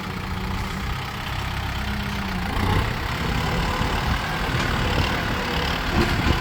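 A farm tractor engine runs steadily while driving in hot weather, a continuous low rumbling drone with a mid-range hum, fairly loud and consistent throughout with no talking.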